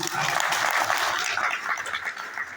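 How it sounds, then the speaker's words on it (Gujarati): Applause from a crowd at an ashram religious gathering, a steady wash of many hands clapping that holds throughout and fades slightly at the end, with no clear voices. "એ બધાને જબરદસ્ત તાળી"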